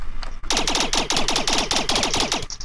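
Rapid automatic gunfire in the VR game Rec Room during a military roleplay, a close, loud burst of about a dozen evenly spaced shots fired in quick succession.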